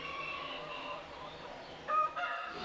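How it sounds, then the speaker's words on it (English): Young chickens chirp and cluck faintly amid the indoor murmur of a state poultry show with hundreds of birds housed under one roof. "There are more than 800 birds here, all under one roof, chirping for a chance at state glory."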